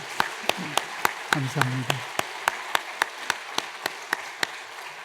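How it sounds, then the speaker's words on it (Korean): Members of a church congregation clap in a steady, evenly spaced rhythm during a Sunday service, a voice speaking briefly over the first beats before the claps continue alone. "다시 한번 박수로 축복하겠습니다"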